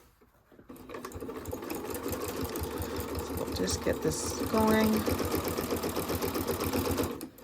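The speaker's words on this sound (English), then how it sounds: "use one of your decorative stitches if you have some on your sewing machine" A sewing machine stitches fabric steadily at close range with a rapid mechanical whir, while a person speaks briefly over the start.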